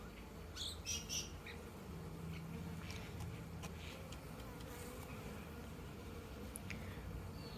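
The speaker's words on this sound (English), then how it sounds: "They're all buzzing around." Honeybees swarm busily around a hive entrance in summer, a steady close drone of many wings with individual bees zipping past the microphone, faint bird chirps scattered in the background.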